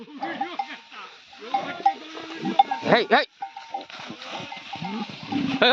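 Cattle lowing amid a jumble of animal calls and clanking bells, with people shouting and talking close by throughout.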